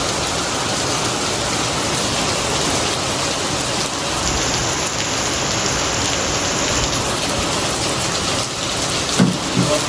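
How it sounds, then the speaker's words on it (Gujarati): A sudden rain shower comes down steadily, a thick, close patter on surfaces that stays even throughout, with a couple of faint knocks near the end and no speech. "અહીંયા અચાનક જ જો વરસાદ ચાલુ થઈ ગયો છે."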